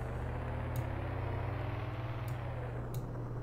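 Steady engine drone of a rally car in the Roblox WRC rally racing game, a continuous low hum held throughout with a few brief faint ticks on top and no speech.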